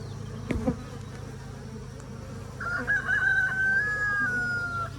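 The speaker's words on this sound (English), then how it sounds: "Sorry, that's my rooster." A rooster crows once at a moderate distance, its drawn-out call rising and holding over a steady buzzing drone of insects.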